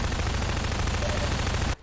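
Sustained automatic fire from a mounted turret gun in Half-Life 2 Episode 2, clearing a tunnel, loud and dense in a continuous rapid burst that cuts off abruptly near the end.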